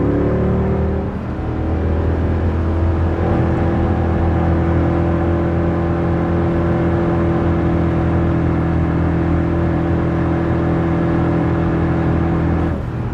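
A Mercedes C63 engine drones loudly and steadily in third gear at 5000 rpm, a constant humming roar with no pauses and no talking.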